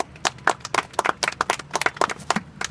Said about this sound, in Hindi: आप लोग खुद के लिए भी ताली बजा लो।